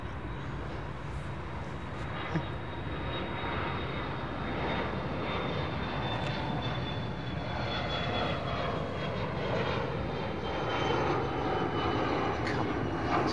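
A Turkish Airlines Airbus A350 at Chicago O'Hare roars with a loud, continuous engine rumble and a thin whine throughout, steady and close with no talk.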